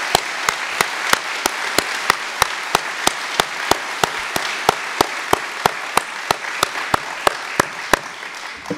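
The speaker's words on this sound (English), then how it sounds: "I think we should give them a big round of applause for the great work that they've done" Rhythmic, evenly spaced clapping at a California political summit honoring Republican legislators, loud sharp beats repeating steadily about three per second over a softer bed of crowd applause, with no speech.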